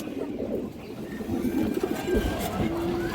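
Pigeons coo in a loft of birds kept for sale, low repeated calls close by, with someone talking over them.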